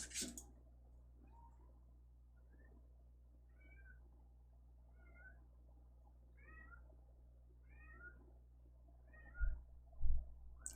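A cat meows repeatedly, a series of short rising calls spaced a second or so apart, fairly close over a quiet background hum, with a couple of soft thumps near the end.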